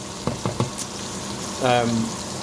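A pot of thick sauce bubbles and sizzles steadily, with a few soft pops and a brief burst of gurgling partway through.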